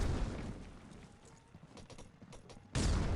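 Scattered gunfire in a Critical Ops match, quick distant shots and crackles under a noisy background, ending in a sudden louder burst of noise.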